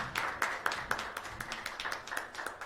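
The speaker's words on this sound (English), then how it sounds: "Let's welcome her with a great round of applause." Sparse clapping from an audience welcoming a guest at a formal talk event, individual claps distinct and fairly quiet, with a few hands beating in loose rhythm.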